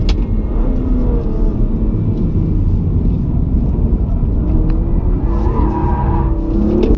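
BMW M2 Competition driven hard in a drift on a kart track, its engine giving a loud, steady roaring rumble with shifting pitch throughout.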